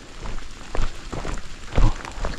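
Rain pattering down beside a small creek on the Pacific Crest Trail, a soft steady hiss broken by scattered louder drops and splashes, with no voices.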